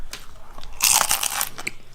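A single crisp bite into a crunchy taco shell, close and loud, with a brief crackling crunch followed by a few smaller crumbling cracks.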